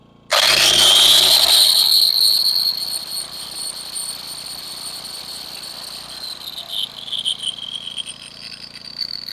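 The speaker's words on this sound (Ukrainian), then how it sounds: "Якщо запускаємо болгарочку" An angle grinder starts up on power from a Mosa GE2000MI inverter generator, giving an abrupt loud high whine that winds up sharply and then settles into a steady, fluctuating drone.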